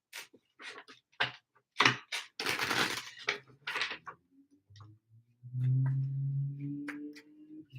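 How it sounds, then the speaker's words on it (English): Tarot cards being shuffled by hand, a run of quick dry riffling snaps and slaps in short bursts up close, followed by a soft low hum at the end. "Last shuffle."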